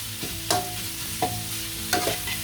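Pork stir-frying in a pan with flowers and bean sprouts, a soft continuous sizzle broken by a few scraping stirs of a spatula, close by and with no voices.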